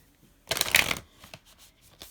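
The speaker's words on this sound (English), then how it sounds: "Oh, that was a yucky shuffle." A deck of tarot cards being shuffled once, a short loud riffling burst in the middle, followed by a few faint card taps and quiet handling noises.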